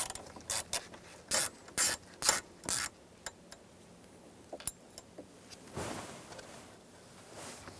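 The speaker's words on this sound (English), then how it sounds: "Remove the screws." Screws being backed out of the steering column on a 1988-1999 GMC K1500 pickup, a series of sharp ratcheting bursts close up, then quieter clicks and a brief rustle, with no talking.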